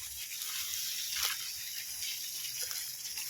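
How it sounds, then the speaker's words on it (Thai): Water from a garden watering pours and seeps around the base of a plant clump, a soft continuous hiss and gush with brief splashy swells, close and fairly quiet, no talk. "ดูน้ำไหลออกมาอยู่ น้ำไหลออกมาอยู่ ด้านข้างๆรอบๆกอ น้ำฉ่าเลย"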